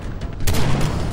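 Gunfire in the video game Far Cry 3 during a co-op firefight: a sudden loud burst of shots cuts in after a quieter start, followed by sustained rumbling fire and booms that stay dense to the end.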